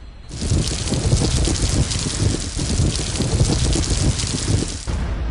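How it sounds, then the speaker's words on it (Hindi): Heavy rain pours down in a dense, continuous roar, loud and close, with no voices. "पहले घनघोर बारिश"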